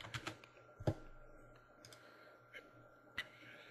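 Typing on a computer keyboard, a few scattered, fairly quiet key clicks and taps at an irregular rhythm, with speech faintly present.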